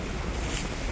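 Sea waves at Playa Calatagan beach, just after a typhoon: a steady, loud wash of surf with heavy wind buffeting the microphone throughout, no voices.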